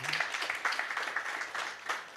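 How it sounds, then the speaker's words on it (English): Audience clapping for Professor Christine, a dean, at a university entrepreneurship pitch day in Kigali; a short, steady patter of applause from a crowd, moderately loud throughout. "A round of applause for Professor Christine."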